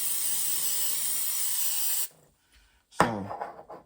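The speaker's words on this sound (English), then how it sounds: "we'll go ahead and spray this with this butter flavor" A steady, loud hiss of butter-flavor cooking spray for about two seconds, then it stops; a brief clatter and rustle follow after a short pause.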